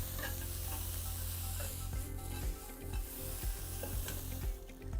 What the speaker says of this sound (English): The sloped sides help you move the onions around so that you can really cook them quickly and easily.